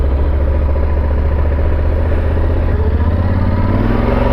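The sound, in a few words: motorcycle riding, Kawasaki 650R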